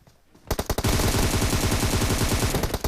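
Rapid machine-gun fire from a video game, a dense burst of shots that starts abruptly after a quiet moment and continues loud and sustained.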